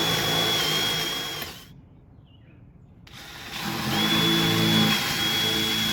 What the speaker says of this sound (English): So marked them off from the template and drilled them out.